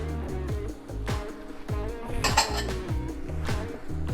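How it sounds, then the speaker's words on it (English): Stirring butter into a thickening pan sauce for steak au poivre: a utensil scrapes and clinks against the pan in a steady repeating rhythm, close and clear, with no talking. "Start stirring that in"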